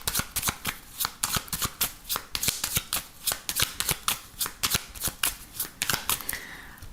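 A 32-card deck of playing cards being shuffled by hand, a rapid series of crisp riffling bursts in an even, repeating rhythm, close and clear with no talking.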